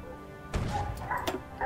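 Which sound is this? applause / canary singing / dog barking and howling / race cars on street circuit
dog barking and howling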